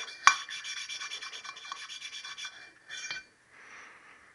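Hand lapping of the valves on a Triumph T120R motorcycle engine gives a close, steady back-and-forth rubbing and rasping that runs for about three seconds, stops briefly, and then returns more softly.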